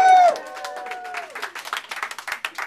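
Lecture audience on cue makes noise together, scattered cheers and voices rising over a rapid patter of clapping that builds through the moment, fairly close and lively.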